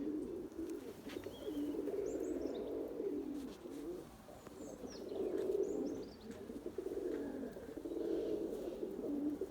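Pigeons coo in a loft full of young birds, low rolling coos repeating in slow waves, with a few faint chirps above and no voices.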